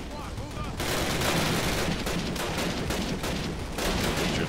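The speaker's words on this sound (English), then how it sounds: "Firing at somebody over there." Gunfire in the Call of Duty video game crackles in rapid, dense bursts, loud and close. The fire runs almost without a break across the whole stretch.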